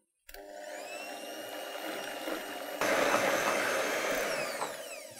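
An electric whisk beats egg white meringue over heat, a steady motor whine that steps up louder partway through and carries on alone.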